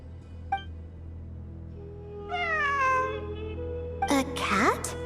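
A cat meows twice in the Genshin Impact game, a short chirp first and then a longer falling meow, with a final squealing yowl near the end over a low steady hum.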